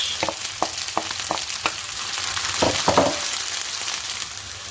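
Fenugreek seeds and onions fry in a pan with a steady, close sizzle, punctuated by a series of sharp clicks and scrapes as the mixture is stirred.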